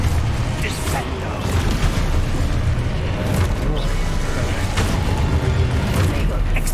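Explosive spell blasts in Hogwarts Legacy, a continuous loud rumble of booms and crackling impacts with dense low-end energy throughout, layered under shouted spell incantations.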